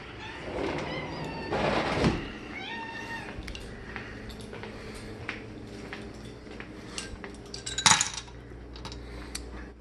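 A house cat meowing a couple of times close by, with clinking of dishes and cutlery and a sharp metallic clatter later on in a quiet kitchen.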